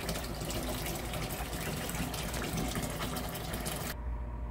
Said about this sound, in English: Put some more water in and get the other one started.